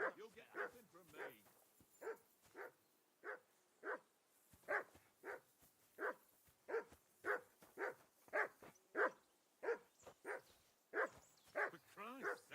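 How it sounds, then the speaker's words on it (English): A dog barks again and again in a steady rhythm, about twenty sharp woofs with a few yelps mixed in, moderately close against an otherwise quiet background. "Call off that damn dog before he wolfs down the last of our mates."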